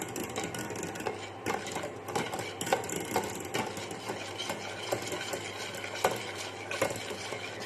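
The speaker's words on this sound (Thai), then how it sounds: "เดี๋ยวเราจะค่อย ๆ คนไปเรื่อยๆนะคะ คนเบาๆนะคะ" Cherry red jelly mixture gently stirred in a pot on a stove over low heat: soft, repeated scraping and clinking strokes at an unhurried rhythm over a quiet background, close by and fairly faint.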